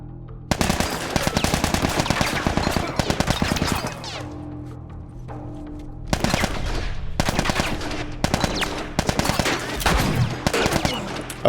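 Rapid automatic gunfire in the video game The Last of Us Remastered, with dense, loud bursts of shots rattling almost continuously and only brief breaks between volleys.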